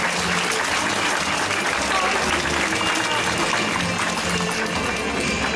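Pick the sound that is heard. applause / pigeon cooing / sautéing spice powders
applause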